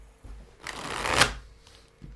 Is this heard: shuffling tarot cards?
yes